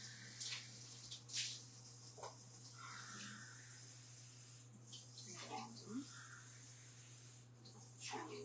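Water runs from a tap into a small cup until it overflows, a continuous moderate splash with a low steady hum and a few brief clatters nearby.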